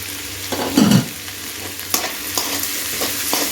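Tomatoes sautéing in a pan while being stirred, a soft continuous sizzle with a few scraping stir strokes, close and alone.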